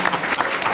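A brief burst of audience clapping at a talk on Chicago school principals and budgets, dense and close, lasting under a second.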